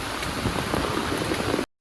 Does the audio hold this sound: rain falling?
yes